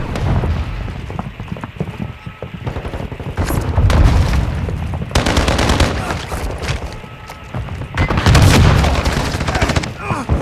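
Gunfire in Warzone 2.0 DMZ, bursts of automatic shots and booms in several clusters over a continuous game soundscape, loud and close.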